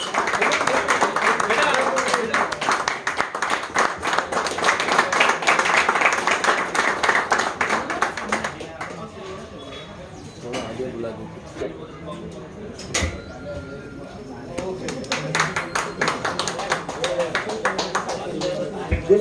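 An audience at a prize distribution function claps in a dense, steady burst that fades midway and then picks up again with scattered claps. A voice talks over it now and then.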